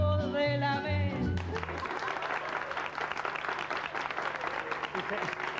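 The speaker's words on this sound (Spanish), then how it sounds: "para empezar yo animado a aplaudir, y vais y me aplauden" A television magic show audience applauding steadily, a dense wash of many hands clapping that follows a brief burst of music and carries on evenly.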